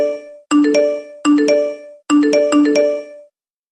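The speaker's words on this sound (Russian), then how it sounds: "Уведомления сыпятся один за другим" A run of phone notification chimes arriving one after another, four bright, ringing tone clusters in quick succession, loud and clean with nothing else underneath, then silence.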